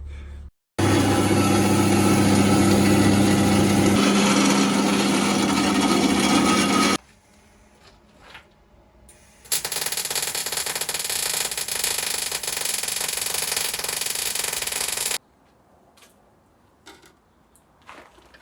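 Loud, harsh cutting of a BMW M3 E93 exhaust pipe during a custom valved exhaust build: two long continuous bursts of grinding noise separated by a short quieter gap, with faint clatter afterward.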